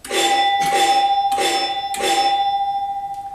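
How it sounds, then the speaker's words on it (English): A ringing electronic pinball target-hit chime repeats in four quick bell-like strikes over a steady sustained tone, loud and close, with no talking. "a final sound effect occurs when we hit the targets."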